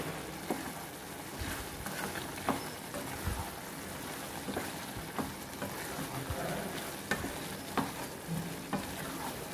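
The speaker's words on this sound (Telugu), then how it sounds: "ఇలా కారం పొడి వేసేసుకున్న తర్వాత ఒకసారి కలుపుకోవాలి" A spoon stirs chili powder into bottle gourd curry in a hot pan, producing repeated scraping strokes over a constant close sizzle and bubbling, with no talking.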